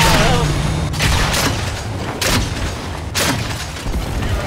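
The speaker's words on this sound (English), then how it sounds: "Missile, missile, missile." Missiles explode in the Evolve video game: repeated heavy booms hit over a constant loud rumble of battle noise.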